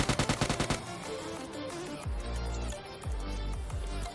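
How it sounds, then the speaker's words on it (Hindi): Gunfire in the mobile battle-royale game PUBG Mobile Lite: a rapid burst of sharp shots opens the moment, followed by deep booming thuds and a fuller rumble of continued firing, with no talking. "यहाँ से मुझे फायरिंग की आवाज़ आती है,"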